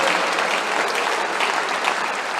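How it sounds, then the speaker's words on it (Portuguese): Sustained applause from a church congregation during an evangelist's sermon, dense and even, with many hands clapping at once and no pauses. "Você pode aplaudir o Senhor Jesus?"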